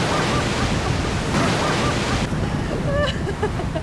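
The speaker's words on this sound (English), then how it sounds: "enjoy the show of the waves crashing against the rocks" Ocean waves crash against rocks at the edge of the sea off Nusa Penida, a steady loud roar of surf and wind filling the whole stretch without a break.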